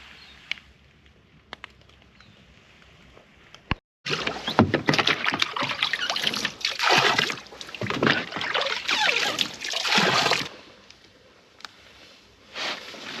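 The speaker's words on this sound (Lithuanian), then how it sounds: "einu dabar semtis iš valtelės medinukės ar plastikinės vandenį ir plaukiu į nedidelę pelkutę" Water is bailed from a small wooden or plastic boat before it is rowed toward a small bog on a fishing trip. After a quiet start with faint knocks, loud close sloshing and splashing bursts follow in waves.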